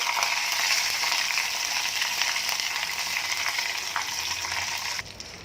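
Curry leaves sizzle and crackle loudly in hot tempering oil for khandvi, a continuous bright frying hiss with occasional pops, close up, fading slightly at the end.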